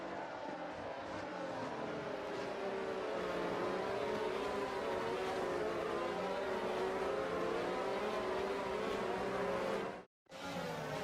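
F1 race cars from the video game F1 22 drone steadily through a formation lap, a continuous layered engine whine with shifting pitch that holds loud throughout before cutting out briefly near the end.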